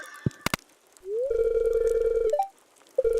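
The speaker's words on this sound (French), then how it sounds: "Ah, téléphone!" Telephone ring in the farming video game Stardew Valley: a brief electronic ringing tone, steady and fairly loud, lasting about a second, followed by short rising blips, preceded by a few clicks.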